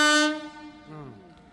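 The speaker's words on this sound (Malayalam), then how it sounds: "നമുക്ക് പോകാനുള്ള ട്രെയിൻ ശതാബ്ദി ട്രെയിൻ വന്നുകൊണ്ടിരിക്കുകയാണ് കേട്ടോ" Horn of a Shatabdi express train arriving at a station, one long loud blast that fades, followed by a second lower, bending horn tone.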